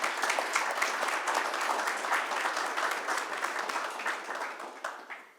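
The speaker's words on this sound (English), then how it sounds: "I'd like to start off my comments by giving a round of applause to Officer Stephanie" A room full of people gives a sustained round of applause for a probation officer at a corrections center celebrating its veterans' housing unit opening, steady dense clapping that fades out at the end.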